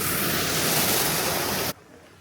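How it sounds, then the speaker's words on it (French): Loud, dense rush of small waterfalls cascading outdoors, a steady broadband roar that cuts off abruptly near the end. "Ça c'est les petits cascades"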